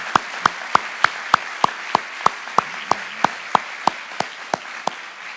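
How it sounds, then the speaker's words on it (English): Clapping at a law school opening convocation, heard as sharp regular claps standing out at an even steady beat over a low background murmur of the hall. "Let's have a round of applause for that kind of diversity"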